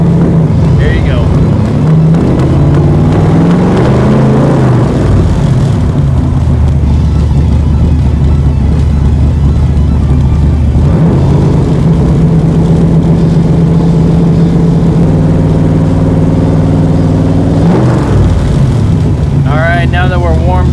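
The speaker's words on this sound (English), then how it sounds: "Fires up first key." A 1965 Shelby Cobra Continuation Series car engine starts and settles into a loud, steady idle with a few blips of revving, close to the microphone, with wind buffeting and voices talking over it.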